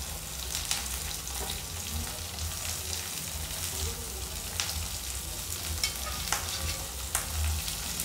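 Carrots and other vegetables sizzle steadily in a pan for soybean Manchurian gravy, a continuous close frying hiss with occasional sharp pops and stirring clinks, no talk over it.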